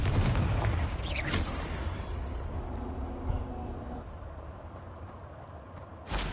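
A Confringo fire spell is cast in Hogwarts Legacy, producing a booming blast at the start that fades into a low rumbling tail, with a short thump later and a faint burst at the end.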